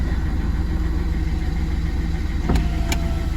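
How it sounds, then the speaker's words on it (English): Citroen C3 engine idling smoothly after a fuel filter change, a steady even low hum held throughout, with two brief sharp clicks near the end. "So there you can see, nice smooth idle."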